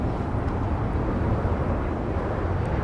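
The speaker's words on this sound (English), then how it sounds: "This is Southwest Flight 312." A Southwest Boeing 737-800 arriving at Dallas Love Field from Panama City, Florida, a dense, steady broadband engine rumble, fairly loud and unbroken, with no voices.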